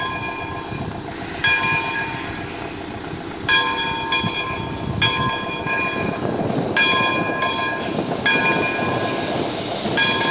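STCR No. 9, a steam locomotive, starts moving near Centennial Sports Club in St. Thomas, Ontario. A steady rumble and hiss run under repeated sharp high horn or whistle blasts and clanking, with no voices.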